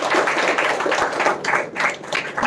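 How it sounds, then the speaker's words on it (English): A crowd at a children's literature festival school round applauds steadily, a dense wash of many hands clapping that swells slightly and continues throughout. "Can we give one more big round of applause for our next performer?"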